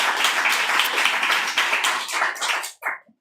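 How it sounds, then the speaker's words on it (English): At a poetry reading, a crowd's steady round of clapping carries for nearly three seconds, then breaks into a few last claps before stopping. "Another round of applause for Ed, please."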